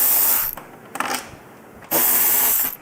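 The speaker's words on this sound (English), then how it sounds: "go ahead and remove the bottom wing bolt" A Torx wrench or power driver works the lower wing bolt free from a motorcycle's lower fairing, giving short close bursts of whirring and scraping with a longer loud run near the end.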